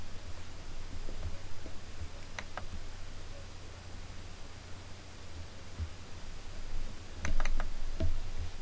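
Sparse keystrokes on a computer keyboard tapping out a command in a command window, faint clicks over steady hiss, with a quick burst of typing near the end.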